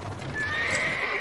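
A horse on a farm gives a drawn-out, high neigh that rises out of rough background noise, loud and close, with no talk over it.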